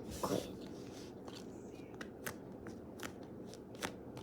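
A squishy toy is handled at close range, with soft crinkly rustles and a few sharp crisp ticks spaced through a quiet, hushed background.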